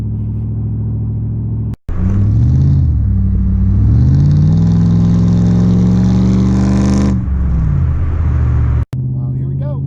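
A 1994 Mercedes E500 sedan engine revs up and holds a steady, rising drone up close, then eases off abruptly, with brief clicks before and after.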